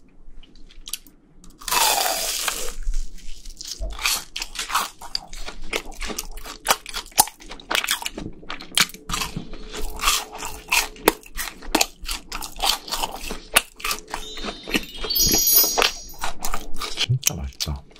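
BHC cheese balls are bitten and chewed close to the mic, with a loud crunchy bite early on followed by repeated crackling, crunching chews, and a person talks between mouthfuls.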